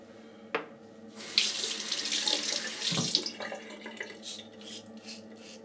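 Tap water runs into a sink to rinse after shaving, a steady close splashing stream that swells and shifts in strength, with a brief knock near the start and a dip mid-way.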